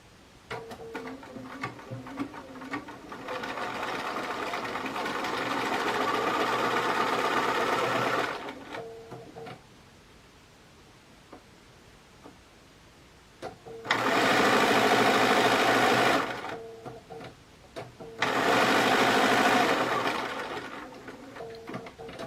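A sewing machine runs in long steady bursts, a sustained mechanical whir that stops, pauses and restarts twice, close and fairly loud with no talking over it.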